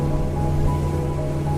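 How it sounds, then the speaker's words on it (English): A constant rushing of water flowing down a mountain at Salzburg, Austria, steady and fairly loud, with no voices or other distinct sounds. "with the sound of the flowing water coming down the mountain above"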